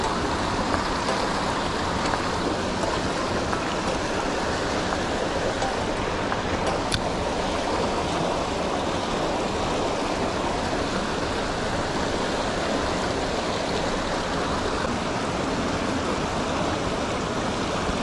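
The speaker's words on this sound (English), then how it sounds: "Wow, this water is flowing so fast today." A fast-flowing wild trout stream in Connecticut rushes steadily, a loud, unbroken wash of water close by with no voices.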